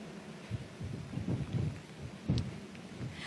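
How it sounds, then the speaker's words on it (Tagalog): Heavy typhoon rain pours down while strong wind gusts roar across an open outdoor spot, a dense steady wash of noise with surging louder bursts and no voices. "Actually, Vicky, talagang mas lalo pang lumalakas yung buhos ng ulan."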